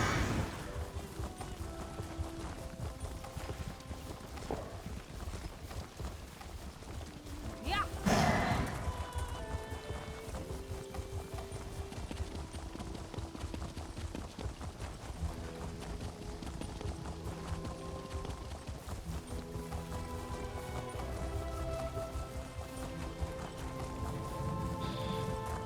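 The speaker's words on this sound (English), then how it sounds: "otro tipo viene a caballo también, ¿o no? Vienes corriendo" A horse gallops in the video game ESO (Elder Scrolls Online), with rhythmic clip-clop hoofbeats running steadily throughout, accompanied by soft game music and a brief louder thump partway through.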